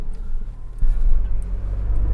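Ford Bronco engine pulling on light throttle while climbing an off-road trail on Mickey Thompson tires at street pressure, a steady low rumble that swells a little partway through and holds near and continuous.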